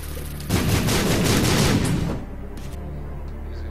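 A bomb goes off in the video game The Binding of Isaac: a sudden loud, crackling blast that roars for about a second and a half, then cuts off to quiet game background.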